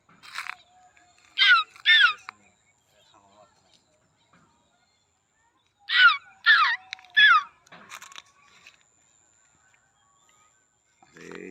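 A bird calls loudly and close by with harsh, cawing cries. They come in two bursts, two calls and then three, separated by quiet gaps.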